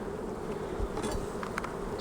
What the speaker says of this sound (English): I'll shake these bees in there